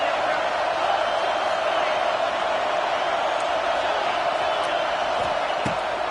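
A college football stadium crowd roars in a steady, dense wash of cheering and shouting, loud and continuous throughout, with a few sharp bangs or slams near the end.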